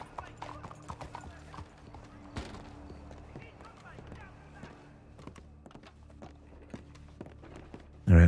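Horse hooves clip-clop steadily on ground in Red Dead, the footfalls close and moderately loud, with a continuous murmur of talk underneath.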